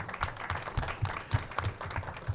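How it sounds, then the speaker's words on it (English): A small audience at a film festival Q&A claps for the sponsor's staff, a light, scattered round of hand claps, fairly faint and brief. "let's give them a big round of applause"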